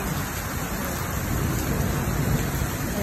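Steady, dense rain roaring without a break, a broad hiss with low rumble underneath, close and loud throughout.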